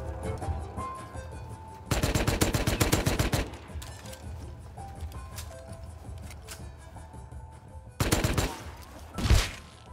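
Bursts of explosive-ammo gunfire in a survival video game, a dense rapid volley early on and another sharp burst near the end, loud and close over a busy low background rumble.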